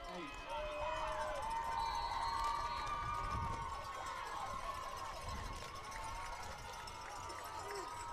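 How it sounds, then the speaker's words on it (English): At a Mingo Central high school football game, the home crowd and student section cheer and roar in a sustained, fairly distant swell of crowd noise, with voices mixed in throughout. "this Mingo Central crowd is cranking up the noise, especially the student section that we have in front of us"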